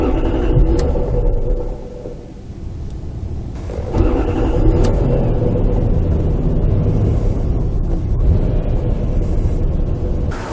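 A Lexus LS400 engine cranks after fuel system maintenance, catches with some difficulty and settles into a low, rough idle, a loud steady rumble close by under an open hood with no voices.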